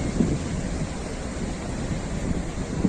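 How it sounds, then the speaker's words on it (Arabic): Sea waves rolling onto a beach in a steady, broad wash of surf with wind buffeting the microphone, no speech, evenly loud throughout. "الامواج بحر الرائعه اكثر من رائعه"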